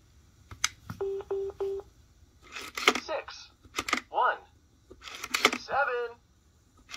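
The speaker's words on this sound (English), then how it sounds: "Let me dial a fictitious number." Four quick, evenly spaced dial tones beep close-up as a number is entered on a Bluetooth Fisher-Price Chatter Phone, followed by sharp clicks and bursts of warbling, chirpy electronic sound from the toy phone.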